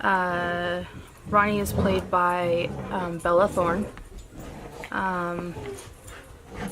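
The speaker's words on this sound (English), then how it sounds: "My dogs are playing in the background, that's what that noise is." Dogs playing in the background, with whimpers, yips and panting coming through underneath a continuous foreground voice speaking throughout.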